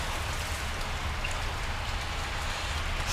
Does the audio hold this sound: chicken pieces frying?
no